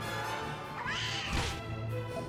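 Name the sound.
cat enemy meowing in Dragon Quest VIII video game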